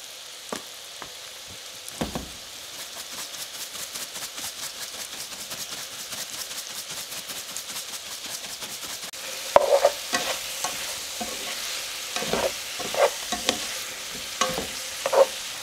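Pork sizzling steadily in a single pan, with a spatula scraping and stirring through it and louder knocks and clatters against the pan near the end; no talking.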